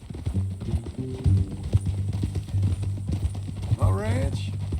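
A horse's hooves clip-clop at a steady walking rhythm in Red Dead Redemption 2, close and distinct, with a brief whinny near the end and someone speaking over it.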